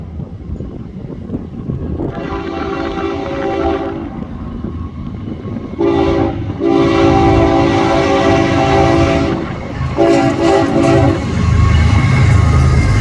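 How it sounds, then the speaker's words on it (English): A Florida East Coast Railway freight train, a southbound double-header, rumbles loudly past at close range while its horn sounds in several long blasts with short gaps, over steady rail noise. "Little horn salute there from him."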